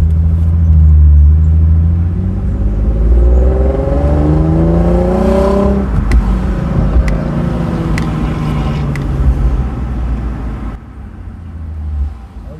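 A Lexus RC with a cat delete exhaust accelerates in Sport Plus mode, a loud, deep exhaust drone rising steadily in pitch through the revs, heard from inside the car, with a few brief clicks and the engine settling near the end.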